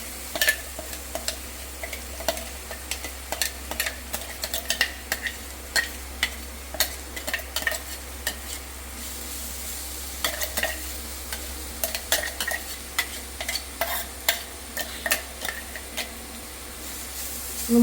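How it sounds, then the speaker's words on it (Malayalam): Crushed spices fry and sizzle in hot coconut oil for a Kerala-style pork roast, with steady crackling and frequent sharp scrapes of a spoon stirring the pan, close and continuous with no talking. "വെളിച്ചെണ്ണ ചൂടായിട്ടുണ്ട് കേട്ടോ. ഇനി നമുക്ക് ഇതിലേക്ക് നമ്മൾ ആ ചതച്ച് വെച്ചില്ലേ, അതെല്ലാം ഇതിലേക്ക് ഇട്ട് കൊടുക്കാം."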